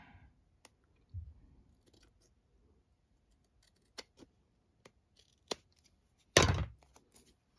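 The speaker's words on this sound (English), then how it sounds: "This has got a little bit here that needs to be cut off." Scissors cut paper for a junk journal in a few sparse, close snips with quiet pauses between them, ending in one louder crunching cut.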